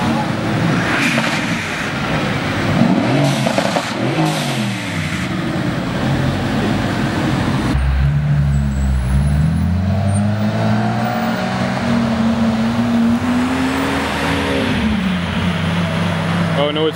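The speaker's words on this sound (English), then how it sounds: "That gray Aventador got pulled over by the bops for excessive revving." A gray Lamborghini Aventador revs on a town street, loud rising and falling engine roars with rumbling and pops, nearby crowd noise and voices talking underneath.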